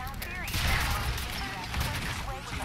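Rapid gunfire from Fallout 4's Nuka World, a dense fusillade of shots that runs loud and continuous throughout, with a busy game soundscape underneath.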